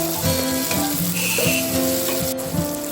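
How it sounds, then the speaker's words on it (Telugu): Chopped onions fry in oil for an eggplant-tomato curry, a close, continuous sizzle with soft stirring clinks and scrapes throughout, no speech. "దాంట్లోనే మనం కట్ చేసుకున్న ఆనియన్ వేసి బ్రౌన్ కలర్ వచ్చే వరకు అలా వేయించాలి."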